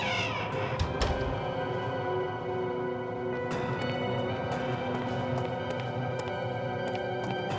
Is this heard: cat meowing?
yes